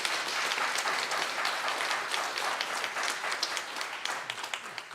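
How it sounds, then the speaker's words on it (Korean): A church congregation applauding at a Christmas service, steady dense clapping from many hands that continues throughout without a break. "자, 축하의 박수 보내시기 바랍니다."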